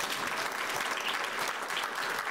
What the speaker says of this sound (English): that deserves a round of applause if we could do that